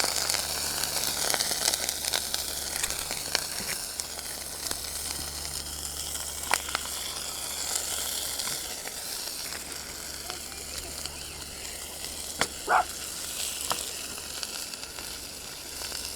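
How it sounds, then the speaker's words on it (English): Steady, loud sizzling and crackling of frozen sausages frying in a hot pan on a Campingmoon Micro Rocket Stove, continuous throughout with occasional sharper pops. "Sizzle test certainly good"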